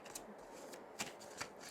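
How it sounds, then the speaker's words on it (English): Tarot cards being shuffled close by, a continuous soft riffling with two crisper snaps of the deck near the end, fairly quiet. "it's probably picking up the shuffling of the cards way more than I want it to"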